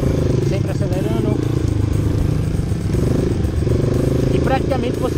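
A Honda CRF 230 dirt bike runs steadily through off-road training, its engine note rising and falling as it corners and climbs obstacles, loud and close, with someone talking over it.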